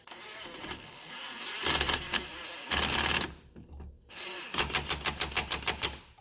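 Pneumatic impact gun driving a 17 mm tie rod nut on a 2010 Nissan Rogue AWD during outer tie rod replacement, heard as several loud close rattling bursts separated by short pauses, the last burst broken into rapid distinct hammering pulses.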